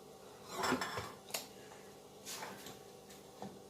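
A spoon scoops cupcake batter into a muffin pan, with a few soft, sparse clinks and taps of metal on the pan against a quiet room.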